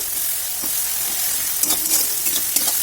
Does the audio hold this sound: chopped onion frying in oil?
yes